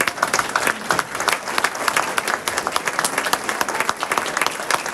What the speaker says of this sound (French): je voudrais que vous applaudissiez très très fort Eva.